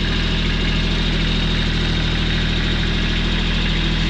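A Kubota tractor engine runs steadily nearby, a loud continuous diesel drone with a fast low throb and no break.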